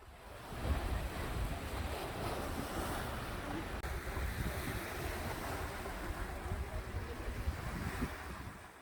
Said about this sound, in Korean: 시원한 바닷물 소리가 정말 좋았습니다.